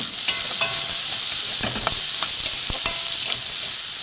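Potatoes frying with finely chopped tomatoes in a pan, a steady bright sizzle and hiss with occasional stirring scrapes and clicks, close and continuous with no talking.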